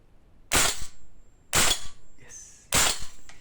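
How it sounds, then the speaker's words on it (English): A VFC/Umarex HK G28 gas blowback airsoft rifle fires three sharp, loud shots at pillows about a second apart, each shot followed by a brief hissing ring. "Alright, so let's shoot some pillows. I'm shooting my pillows"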